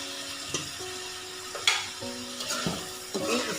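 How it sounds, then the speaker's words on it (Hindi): Onions fry in hot oil left over from frying chicken, giving a steady low sizzle that is broken by clinks and stirring scrapes against the pan, with no one talking. "अब इसी ऑयल में मैं प्याज को फ्राई कर लूँगी।"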